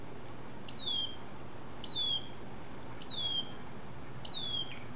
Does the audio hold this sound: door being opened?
no